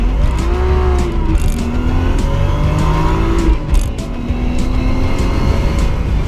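A drift car's engine runs close by, throaty and steady, with rising and falling revs sweeping through and a bright tire-squeal whine overhead, loud and continuous with no talking.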